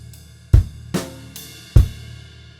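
A drum kit plays a sparse half-time rock groove from a Grade 5 lesson, with three heavy kick-and-snare hits spaced over a steady low ringing bed, close and loud with no talking.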